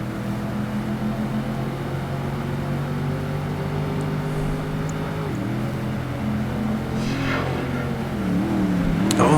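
Nissan 240Z engine in the racing game PGR2 holds a steady drone, then dips and climbs again as it accelerates, growing louder toward the end with no voices.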